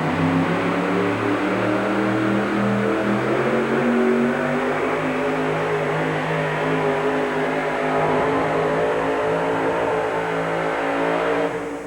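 Budweiser Boss pulling truck roaring under full power at a truck pull event in Tucson, Arizona, a loud sustained engine rev with layered harmonics holding steady for the whole stretch.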